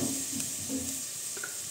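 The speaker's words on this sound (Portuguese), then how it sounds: "Aqui eu já vou fritar o alho" Garlic frying in pork fat crackles with a soft, steady sizzle and a few faint stirring scrapes, quiet and close with no voices.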